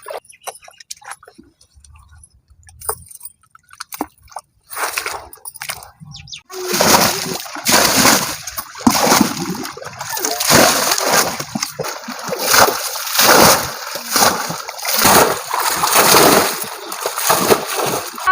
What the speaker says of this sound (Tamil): தண்ணிலாம் ஒரு வழியா இறச்சி முடிச்சிட்டோம்